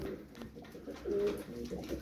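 Soft, low cooing from crested tumbler pigeons close by, a few throaty warbling coos rising and falling over a quiet background.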